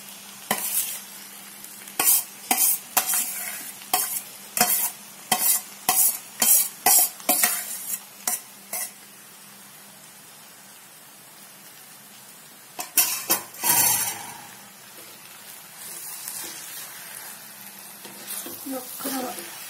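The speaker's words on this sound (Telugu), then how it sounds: "ఒక్క వేగనిచ్చి ఆ తర్వాత చింతపండు వేద్దాం. మంచిగా ఉల్లిపాయ వేగేటప్పటికి మంచి ఫ్లేవరు, అందులో వంకాయ వేగేటప్పటికి" Brinjal and onion frying in a pan, with a spoon scraping and stirring in quick repeated strokes, then pausing and starting again under a soft, steady sizzle, close up with occasional faint sounds in the background.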